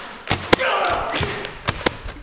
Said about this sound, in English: now I would hold this, and you pump it back, and it flips